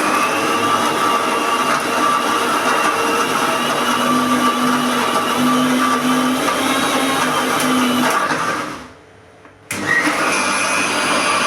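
A kitchen mixer grinder whirs loud and steady while grinding wet masala fine, then cuts off abruptly, leaving a brief silence before the room noise returns.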